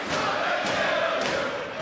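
A wrestling event crowd roars and chants in a loud, dense wash of voices with rhythmic swells filling the arena, no single speaker distinguishable.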